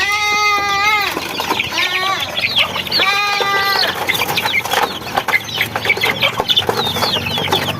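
Chickens cluck and squawk close by in a busy, overlapping chorus, with a few drawn-out calls standing out among the chatter.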